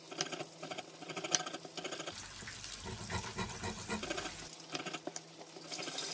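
Lime peel rubbed against a grater for a buttery lime fish dish, heard as a rough, rasping scrape that swells for a couple of seconds in the middle, amid light kitchen clatter.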